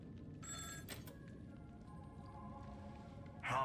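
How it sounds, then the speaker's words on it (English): A telephone rings in the Penacony area of the Honkai: Star Rail video game, with quiet electronic rings coming in short bursts over a soft background ambience. "Phone's ringing."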